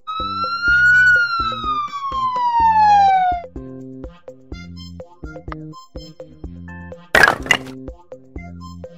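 A cartoon ambulance siren wails in a clear falling tone over a bouncy, plinking children's tune, then the siren stops while the music carries on, with a sharp cracking burst partway through.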